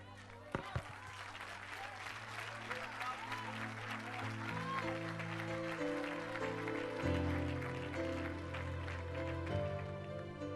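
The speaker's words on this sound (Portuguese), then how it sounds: "Foi lindo ver você aplaudir, mas quando você aplaudiu, esquentou a palma das mãos" Church congregation applauding, a dense steady wash of clapping from many hands throughout, mixed with music and sustained organ or keyboard chords, at moderate volume.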